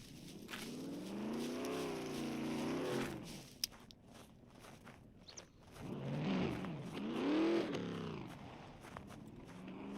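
Truck engines rev in a PvP looting video game, two bursts of engine noise whose pitch swoops up and down, separated by a quieter gap with a brief click.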